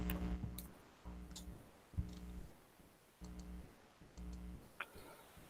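Clicking keys on a computer keyboard while typing a message, a quiet run of sharp clacks in uneven bursts separated by brief pauses.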